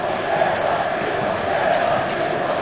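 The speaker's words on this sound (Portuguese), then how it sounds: "Tá gritando a torcida." Brazilian football crowd at a Cruzeiro match shouting from the stadium stands, a constant, loud, unbroken roar of many voices with no pauses.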